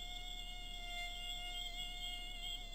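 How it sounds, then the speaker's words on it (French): Steady insect whine from mosquitoes in the jungle, several high sustained tones droning continuously and faintly throughout with no voices. "il y a des moustiques dans la jungle"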